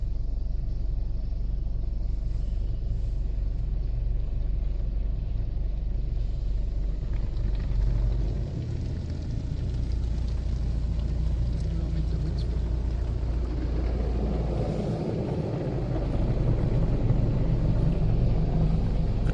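A WashTec SoftLine 2 car wash tunnel with grey SoftTec brushes runs its foam stage at a car wash in Brendale, Queensland, giving a steady, loud mechanical rumble and broadband wash noise that swells toward the end.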